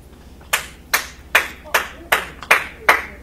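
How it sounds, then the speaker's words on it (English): Seven slow, evenly spaced claps ring out sharply and close by, each a crisp isolated smack with a short decay, at a wedding-day gathering. "Why are we clapping?"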